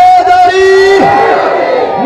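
A crowd at a religious gathering about the martyrdom of Imam Hussain roars the Naara-e-Haidari slogan, loud massed voices shouting in a sustained, ringing chant.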